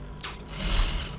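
A sewing machine stitches a curved seam in corset fabric, starting with a sharp click and then running in a brief steady whir at close range, with no talking.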